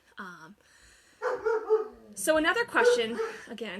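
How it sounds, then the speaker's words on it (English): A dog barks in short bursts in the background while a person keeps talking in the foreground, the yips and barks mixing with the speech. "sorry about the barking in the background"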